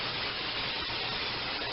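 A steady, loud hiss of aerosol cooking spray onto a baking sheet, held for under two seconds, with no talking.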